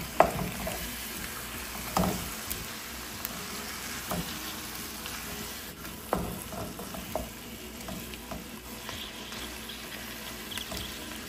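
Chicken adobo in coconut milk sizzles steadily in a pan over lowered heat, with a few distinct scrapes and clanks of stirring breaking through the continuous frying hiss.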